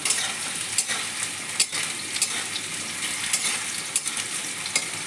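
New potatoes fry in a pan, browning in oil with a continuous crackling sizzle at moderate level, dotted with sharper pops and stirring scrapes throughout.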